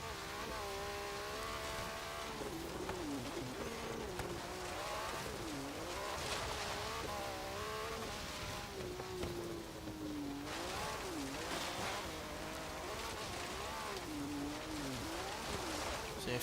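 A 1986 MG Metro 6R4, a mid-engined all-wheel-drive rally car, driven offroad in Forza Horizon 3. Its engine drones loudly and continuously, with revs rising and falling throughout and no talk.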